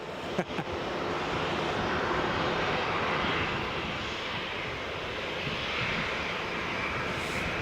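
A Jet2 Boeing 737 jet airliner bound for Tenerife gives a steady, broad roar at Leeds Bradford Airport, loud and continuous the whole time with a faint wind-like hiss, and no talking.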